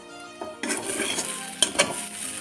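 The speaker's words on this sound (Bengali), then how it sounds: "এখন আমি গুঁড়ো মশলাগুলো মিক্স করব এর মধ্যে।" A spoon stirs fried ground spices through a green pea kachuri filling in a pan, giving soft scraping and shuffling with a few sharp metallic clinks against the pan, close and moderately quiet.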